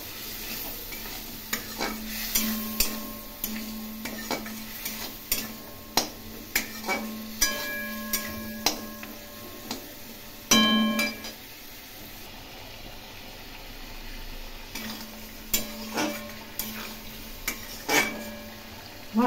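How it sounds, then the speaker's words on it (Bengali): Spices sauté in a pan for a Bengali fish curry, sizzling softly under repeated stirring, with spoon clinks and scrapes against the pan at irregular intervals. "মশলা কষানো হয়ে গেছে"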